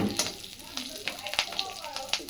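Whole spices such as cumin, mustard seeds, dried chillies and curry leaves crackle in hot mustard oil for a tempering, a moderate sizzle with scattered pops while a person talks.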